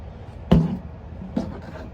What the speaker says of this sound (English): Give it a quick spray.